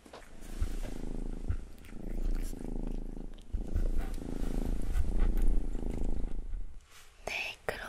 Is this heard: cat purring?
yes